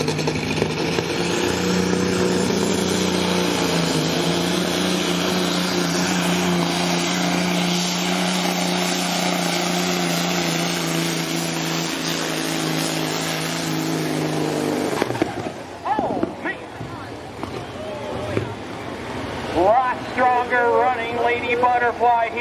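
Semi truck with a Caterpillar engine at a county fair tractor pull, a loud sustained diesel roar close by for about fifteen seconds, then fading into crowd noise and an announcer talking.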